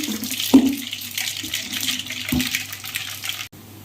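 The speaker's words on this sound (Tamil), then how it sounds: "இப்போ தேவையான அளவுக்கு கடுகு போட்டு தாளிச்சு உடனே ஸ்டவ் ஆஃப் பண்ணிடலாம்" Mustard seeds sizzling and crackling in hot oil for tempering a Tamil mango pickle, a steady close hiss with a few sharper pops early on, no talking.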